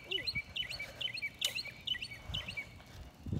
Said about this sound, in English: I guess these birds want to be in my video.